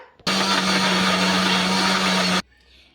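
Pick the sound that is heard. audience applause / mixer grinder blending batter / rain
mixer grinder blending batter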